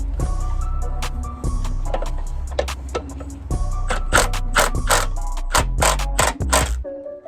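Work on the front bar of a Toyota FJ60 under restoration: a ratchet clicks and metal tools clank and scrape close by, with a low engine-like hum running underneath throughout.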